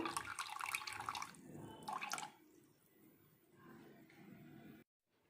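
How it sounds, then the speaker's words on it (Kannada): Tamarind juice poured into a pot of rasam, a watery splash and trickle coming in two short bursts, then a fainter steady dribble, all quiet and close. "ಇವಾಗ ಹುಣಸೆ ರಸನ ಹಾಕ್ತಾ ಇದ್ದೀನಿ ಹುಳಿಗೆ ಬೇಕಾಗೋಷ್ಟು"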